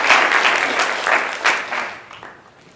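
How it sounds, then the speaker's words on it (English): A panel audience at a democracy summit breaks into loud applause that swells briefly, then tapers off over a few seconds. "Everyone, round of applause for Helen."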